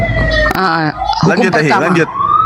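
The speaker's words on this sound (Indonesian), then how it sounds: "Itu ambulan mau bawa Bang, betul Bang, mau bawa Derni Bang" An ambulance siren wails past in loud rising and falling sweeps, with a voice talking over it.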